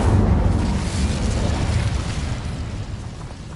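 A fire spell blasts off in Hogwarts Legacy, a dense roaring burst that stays loud for several seconds and then tails off slightly, with no voices over it.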